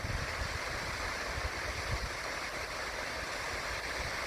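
A waterfall in Australia in winter, running high with extra water: a steady, even rush of falling water, broad and constant with no breaks, heard from a moderate distance.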